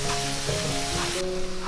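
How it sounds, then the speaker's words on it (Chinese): Ginger frying in peanut or camellia oil in a hot wok over low heat, a steady close sizzle with a brief scrape partway through. "调小火把姜炸香"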